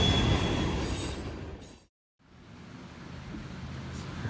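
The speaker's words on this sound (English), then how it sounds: "wait for a train to go by" A train passing near a boatyard where a sailboat hull is being painted: loud, continuous rumble and wheel noise, fading to a brief silence partway through, then a quieter rolling rumble returning.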